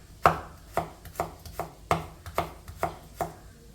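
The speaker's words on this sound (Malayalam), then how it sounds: "ക്യാരറ്റും ഇതേപോലെ കട്ട് ചെയ്തെടുക്കാം." Sharp knife strokes cutting carrot on a board, about eight crisp chops in an even, unhurried rhythm, close and clear with no talk.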